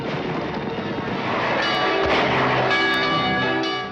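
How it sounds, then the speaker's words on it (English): A church bell rings in a 1950 western film scene, giving a sustained, dense metallic clang with lingering overtones that swell and hold loudly, mixed with other film sound. "Okay, Mary, you can stop ringing the bell now."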